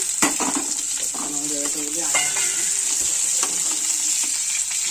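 Chopped garlic and onion sizzle and crackle steadily in a hot pan for soybean chilli, with occasional stirring scrapes and a brief voice in the background.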